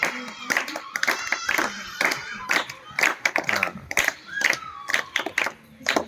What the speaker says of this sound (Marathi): टाळ्या वाजवूया आपण